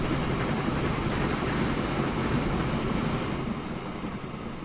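A train rolling along rails in the game Train Fever: a dense, continuous broadband rumble and rush that holds steady and fairly loud, then eases slightly toward the end, with no voices.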